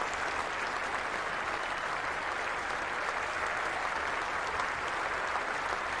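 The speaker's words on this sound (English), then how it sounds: "Loud applause round the ground and long chase to the fielder." Cricket crowd at an England versus Australia Test match applauding a century, a steady, thick wash of clapping from all around the ground.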